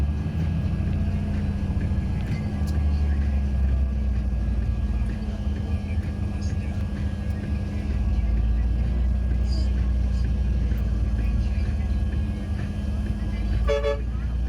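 Inside a crowded bus crawling through heavy city traffic from Cubao to Taguig, a steady low engine rumble runs throughout, with horns tooting outside, a sharp honk near the end, and faint passenger chatter.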